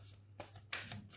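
Tarot cards are pulled out and shuffled in a quick, faint riffle of papery flicks and soft slaps, a brief burst close by with no talk over it.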